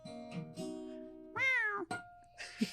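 A cat meows several times in a row, with drawn-out, rising and falling cries. The calls are close and clear against a quiet background, ending with a short, sharper meow.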